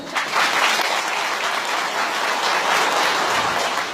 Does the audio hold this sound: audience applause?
yes